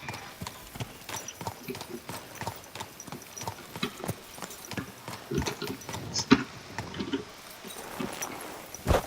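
Horse hooves in the video game Kingdom Come: Deliverance 2 clip-clop in a steady walking rhythm on hard ground, fairly faint with soft ambient sounds and slight scraping between steps.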